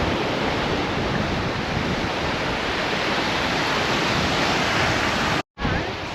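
Indian Ocean surf breaks on a Western Australian beach as a loud, steady broadband wash of waves, close and continuous, with a brief dropout near the end.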